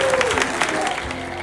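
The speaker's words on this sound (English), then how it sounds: "A round of applause for his happiness." Brief audience applause at an awards honoring event, clapping hands in a short burst with a faint tonal note and some background voices.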